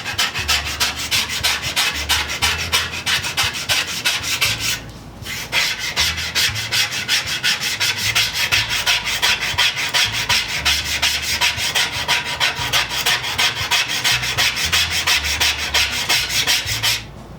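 Razor blade scraping rust from the plate of a Disston #28 tool box saw, a steady rhythmic rasping of rapid strokes, close and loud, with a brief pause near the five-second mark and no voices.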